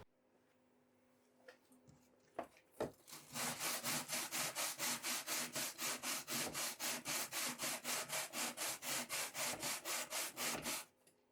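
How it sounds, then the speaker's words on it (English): Plexiglass panel for a 3D printer enclosure being sanded by hand: a few taps, then a fast, even run of about two dozen close rasping back-and-forth strokes, with no talk. "So off to a bit of sanding session here so we can get the plexiglass finished."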